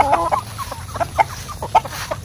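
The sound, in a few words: Darag rooster crowing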